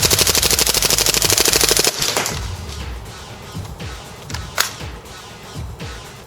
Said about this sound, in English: today we're going to be testing the accuracy of the WE gas blowback L85